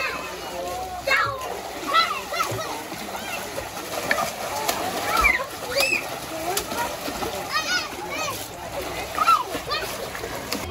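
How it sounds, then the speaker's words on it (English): Splashing in a swimming pool, repeated sloshing and churning water close by, with children's voices and chatter mixed throughout over a busy background. "now we're going to swim, so I'm gonna go to the swimming pool and let's swim"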